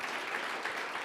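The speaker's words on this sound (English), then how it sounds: "Well, let's give a warm applause." Steady applause from a conference audience, dense and even throughout, filling the room without any voices on top.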